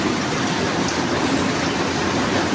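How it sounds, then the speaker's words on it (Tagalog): Heavy afternoon rain pours down in a dense, constant roar that is loud and unbroken, with no voices heard. "Lakas na ba ng ulan, no?"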